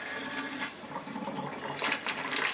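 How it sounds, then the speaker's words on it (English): Water from a household sink drains and gurgles in the background near an aquarium tank during a water change, a steady rushing flow that grows brighter and stronger toward the end. "you'll probably hear my sink in the background"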